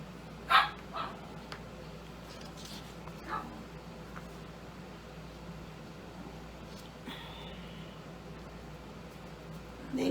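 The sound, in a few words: dog barking in the background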